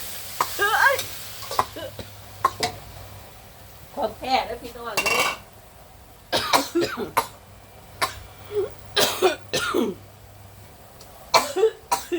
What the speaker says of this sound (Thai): ผัดพริกกับกระเทียมให้หอมนะคะ